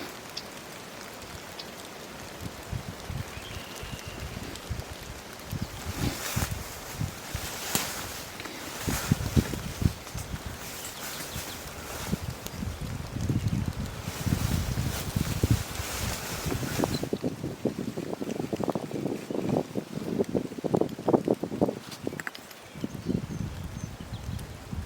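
Wind gusting outdoors during a late-season turkey hunt in Wisconsin, a rough continuous buffeting rush with microphone rumble and crackly patter, rising and falling in strength and loudest in the later half.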